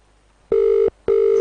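A telephone rings with two long, loud electronic ring tones separated by a short gap, with no talk.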